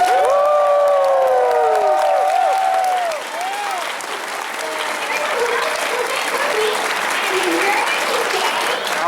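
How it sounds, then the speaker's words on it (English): A convention panel crowd claps and cheers loudly for Takanashi Kiara, with high whoops and voices rising over the applause early on, then sustained clapping continuing under scattered shouts. "one more time, round of applause for Takanashi"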